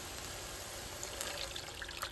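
Water pouring steadily into a pot for cooking pasta with ground turkey, a continuous broadband splashing rush that stays close and fairly loud for the whole stretch, with no talk over it.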